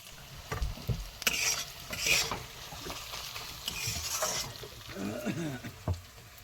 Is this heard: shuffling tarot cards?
no